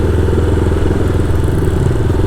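Engine of a customized Royal Enfield Himalayan motorcycle running steadily up close, a continuous loud mechanical drone with a low throb and light clatter throughout.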